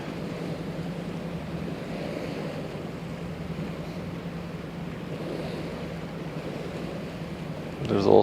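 Container ship CMA CGM America passing on the Westerschelde, a steady low rumble blended with wind and lapping water, constant throughout, with a brief louder gust or bump at the very end.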